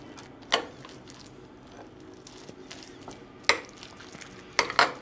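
A spoon stirring celery salad with crushed walnuts in a bowl, soft wet squishing punctuated by a few sharp clinks of utensil against the bowl.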